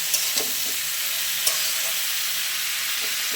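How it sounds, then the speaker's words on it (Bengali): Salted greens stalks fry in a pan with a steady soft sizzle and hiss, broken by a few light stirring clinks, heard close with no talking. "এবার আমি বেশ কিছু সময় এটাকে ভাজা করে নেব"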